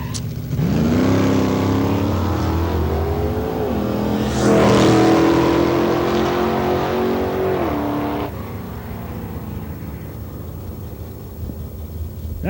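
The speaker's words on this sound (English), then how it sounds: "Mr. Frank Devine from here in Medicine Hat, in a 1952 Chev Bel Air with 350 cubic inch" A 1952 Chevrolet Bel Air drag race car with a 350 cubic inch engine launches and accelerates hard down the strip, its loud engine note climbing through gear changes before fading into the distance, heard over open track ambience.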